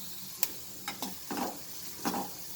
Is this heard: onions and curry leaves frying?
yes